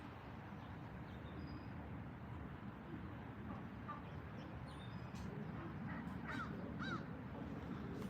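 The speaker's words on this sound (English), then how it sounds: "I don't know if you guys can hear the crows behind me." Crows caw from a tree in a neighbor's yard, a few faint, distant calls scattered over a steady outdoor background hiss.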